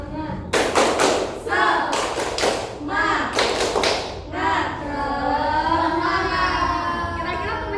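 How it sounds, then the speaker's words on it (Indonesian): Schoolchildren in a fifth-grade classroom perform the rhythmic tepuk semangat clap, a burst of patterned claps and taps for about four seconds, followed by children's voices chattering and chanting. "Ayo. Tepuk semangat."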